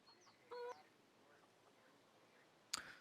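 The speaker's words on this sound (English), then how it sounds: "What do you hear? Chicken?" A chicken gives a couple of brief, faint clucks, followed by a sharper squawk near the end, heard against a quiet background during a game broadcast.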